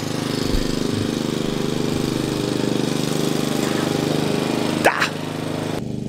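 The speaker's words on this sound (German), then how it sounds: "Mein Nachbar mäht." A neighbour's lawn mower runs steadily nearby with a continuous buzzing engine drone, and a brief sharper rattle rises over it toward the end.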